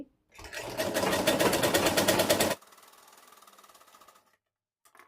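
Electric sewing machine stitching a blouse, a fast steady rattling run of about two seconds that stops abruptly, followed by quieter mechanical whirring as it winds down, close and alone.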